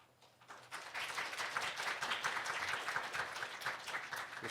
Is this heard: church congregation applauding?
yes